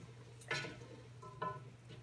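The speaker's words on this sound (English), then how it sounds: "I'm gonna mix this all together" Green mild chilies being stirred into chili beans in a pot, two distinct scraping stirs with a light sizzle beneath, close and moderately loud, no voices.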